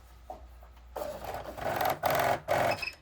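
A malfunctioning sewing machine bunching thread into a nest under the fabric runs in loud, rapid mechanical bursts that stop and start, with short pauses between.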